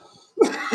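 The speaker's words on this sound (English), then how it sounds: "I still have that cough" Two quick, close coughs in succession, the second slightly weaker, after a brief quiet moment.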